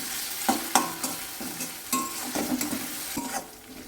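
Spices and tomato frying in a pan for palak paneer, with a spatula scraping and stirring in irregular strokes over a steady close sizzle.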